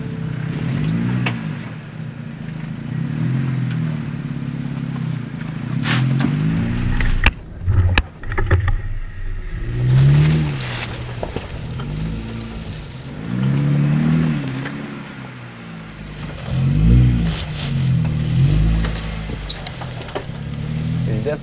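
A Jeep engine revs and rumbles while crawling over jagged rocky off-road trails on the East Coast, loud and close, rising and falling in repeated surges with bumps and knocks from the terrain.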